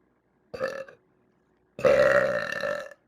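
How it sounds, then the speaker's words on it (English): A young woman gives two burps: a short one first, then after a gap a longer, louder, drawn-out belch that holds steady for over a second before stopping. "I still think I have a burp."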